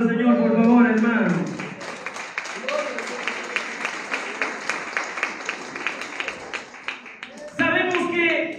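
A church congregation claps steadily for several seconds, rhythmic and moderately loud, between stretches of a man preaching in Spanish.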